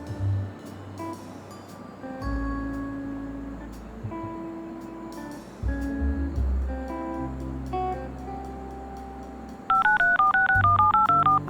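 Telephone dialing in the video game Leisure Suit Larry Wet Dreams Dry Twice: a series of distinct keypad tones over soft game music, ending with a rapid run of alternating dial tones.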